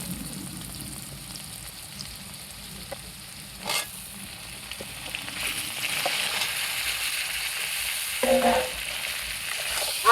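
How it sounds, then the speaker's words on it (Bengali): Ridge gourd and lightly fried potato sizzle steadily in hot oil with turmeric, a continuous crackling fry broken by occasional stirring clatters from a utensil in the pan. "একই সাথে আমি ঝিঙেটাও ভেজে নেব।"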